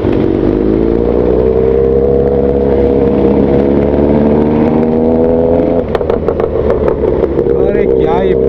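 A loud motorcycle engine idles and revs steadily close by, its pitch rising slightly before a burst of clattering and throttle changes near the end.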